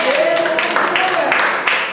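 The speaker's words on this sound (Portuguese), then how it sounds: "Vamos aplaudir o Senhor?" A church congregation claps for the Lord, a dense, close burst of many hands over a short stretch, with a voice speaking over it.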